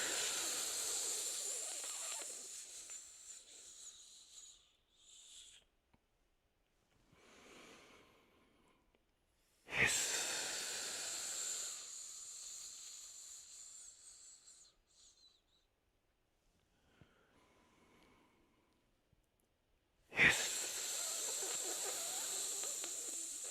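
Three long, forceful hissing exhales during a breathing exercise for lung health, each starting sharply and tapering off, separated by quiet pauses with faint breaths, close to the microphone.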